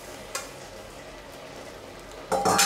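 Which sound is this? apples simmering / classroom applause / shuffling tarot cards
apples simmering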